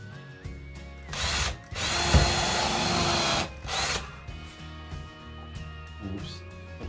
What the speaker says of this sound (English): let's stick a few screws in here.